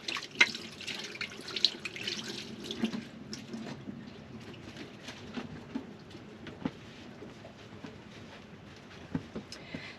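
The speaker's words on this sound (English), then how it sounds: "Just give my hands a bit of a wash." Hands are rinsed under a running tap at a small galley sink, giving a faint, steady trickle and splash with scattered drips and light knocks throughout, and no voices.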